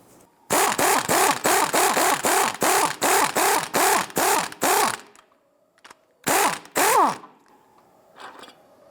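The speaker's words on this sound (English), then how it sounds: "We're going to use our 18mm socket to go ahead and loosen and remove this upper nut." Rapid, loud clicking of a ratchet with an 18mm socket loosening the upper strut nut on a 2005-2010 Chrysler 300, about a dozen sharp strokes in quick rhythm, then a pause and two more bursts, close and alone.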